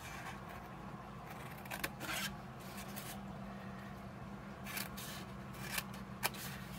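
Scissors cut through patterned paper while a box is being made, giving a few faint, crisp snips spread across a quiet room background.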